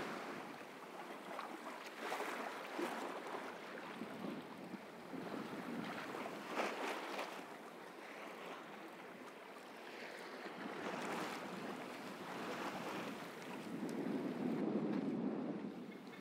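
A sailboat moves over open sea on a broad reach, with a constant wash of waves against the hull and gusting wind buffeting the microphone, fairly quiet and without voices.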